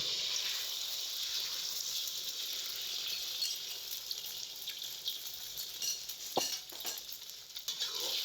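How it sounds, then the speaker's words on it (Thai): Beaten egg for a Thai-style omelette fries in a hot pan, a steady, bright sizzle that holds throughout with a few scraping utensil clicks near the end, no talk. "ระทะร้อนแล้วนะคะ เราก็จะทอดเลยค่ะ"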